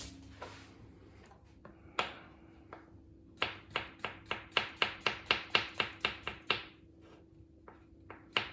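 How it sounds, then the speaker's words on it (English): A knife chops thinly through fresh mushrooms on a board, a quick run of about a dozen crisp, close taps with scattered single cuts before and after, loud and clear with no talk. "I chop up a few of these mushrooms, just nice and thin"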